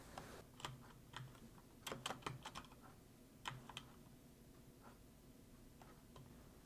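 Typing on a computer keyboard comes as quiet clusters of quick, light key clicks spread unevenly across a few seconds, some keys struck singly and some in short bursts.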